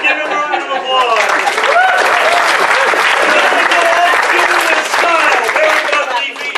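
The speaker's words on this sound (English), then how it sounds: "Give him a round of applause." Applause and clapping fill a furry convention's improv comedy show, a dense steady roar of many hands with whoops and voices rising through it, loud and continuous.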